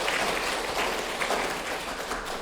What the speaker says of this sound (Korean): 축하의 박수 한번 하겠습니다.